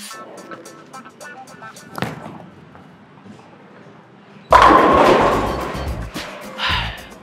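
A bowling ball thrown down a lane at a bowling alley: a heavy thud on release, then a loud rolling rumble that builds and crashes near the end, with voices around it.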